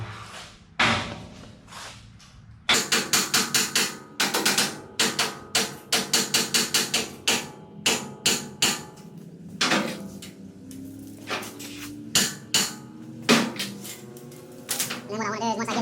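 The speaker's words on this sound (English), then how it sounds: "take a hammer and just tap it to get it perfectly lined up" A hammer strikes stainless steel in a quick run of sharp taps, some rapid and some spaced out, loud and close, with a short pause between bursts.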